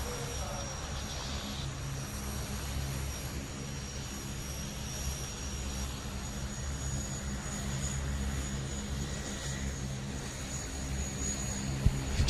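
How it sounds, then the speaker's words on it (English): Loud, sustained jet engine roar from a Panavia Tornado flying overhead at the Cosford Airshow, rumbling low and steady throughout with a harsh high whine on top. "The Panavia Tornado will strike up with an inverted flight"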